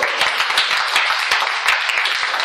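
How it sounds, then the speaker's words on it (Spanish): Church congregation giving loud, dense applause, many hands clapping quickly and evenly for a couple of seconds in a reverberant hall, with no talk over it. "Denle un aplauso fuerte al Señor."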